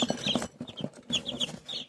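High, rapid peeping of newly hatched chicks, several chirps in quick bursts close by, with soft low clucking underneath.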